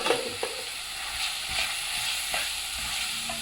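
Chilli and coriander powders stirred into hot oil in a frying pan for a green pea pulav: a steady close sizzle with scraping spoon strokes every second or so, no voices.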